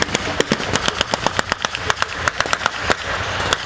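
Rapid bursts of blank gunfire crack out as covering fire during a mock battle at a military vehicle show with a German half-track and infantry, loud irregular volleys in quick succession.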